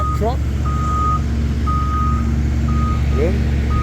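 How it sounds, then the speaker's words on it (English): A tar buggy paving truck backs up at a roadwork site, sending out repeated high reversing beeps over a loud steady diesel engine rumble that runs throughout. "Now you're going to see how the tar buggy works."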